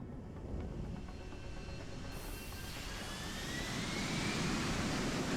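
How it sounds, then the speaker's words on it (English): A VTOL aircraft with dual rotors and side-mounted jet engines in Deus Ex: Human Revolution, a steady loud engine roar and whine that builds slightly, with rising turbine tones. "The dual rotors and the very inefficient jet engines on each side."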